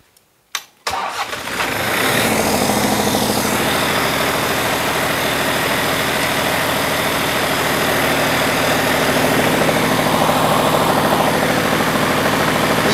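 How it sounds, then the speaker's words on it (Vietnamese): A Kubota V1803 diesel generator engine cranks with a few short bursts, catches, then settles into a loud, steady, rumbling idle that holds for the rest of the stretch. "Bây giờ em đề máy lại nha các bác chị em. Đề máy nè con."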